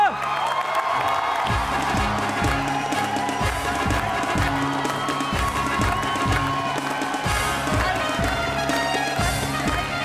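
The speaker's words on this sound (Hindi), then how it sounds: "पब्लिक ताली बजाएगा।" An audience at a Hindi comedy poetry show claps and cheers, a dense crowd roar with rhythmic clapping and rumbling thumps running through the whole stretch, loud and close.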